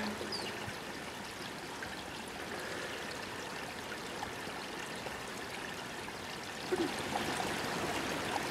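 Water flowing steadily in a frigid creek in winter, a constant soft rushing and trickling with no voices.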